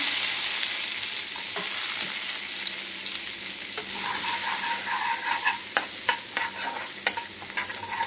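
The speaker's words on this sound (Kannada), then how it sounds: "ಈಗ ಇದೇ ಎಣ್ಣೆಗೆ ನಾನು ಸ್ವಲ್ಪ ಒಗ್ಗರಣೆ ಮಾಡ್ತೀನಿ ಮಾಡ್ಕೊಂಡು ಈರುಳ್ಳಿ ಇದ್ದೀನಿ ಸಾರು ಸ್ವಲ್ಪ ಎಣ್ಣೆ ಕಾದಿದೆ" Onions frying in hot oil for an egg keema curry, a steady close sizzle with stirring and scattered crackles and utensil clicks growing busier toward the end, no talking.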